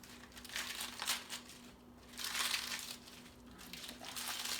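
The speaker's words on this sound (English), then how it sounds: "And then tearing that lettuce" Fresh, rinsed lettuce is torn by hand, making close crinkly rips in three short bursts with quieter pauses between.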